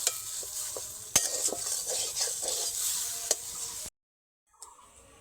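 Potato filling for bread pakora being stirred in a pan over a low flame: continuous scraping and gentle sizzle with occasional spoon taps against the pan, then a sudden silence and a faint resumption.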